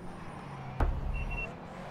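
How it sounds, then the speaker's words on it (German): A smoke detector alarm gives a couple of brief, high electronic beeps over a low background hum, after a sharp knock. "geht der Rauchmelder wieder los?"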